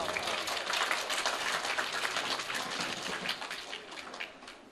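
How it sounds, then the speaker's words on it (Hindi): Sustained applause from an audience at a government primary school award ceremony, a dense, steady wash of clapping that fills the whole stretch and fades only slightly toward the end, with no voices over it. "जोरदार तालियां।"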